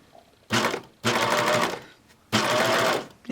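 Serger sewing machine with a lace foot stitching lace, running in three bursts of rapid mechanical whirring separated by short pauses, close and loud.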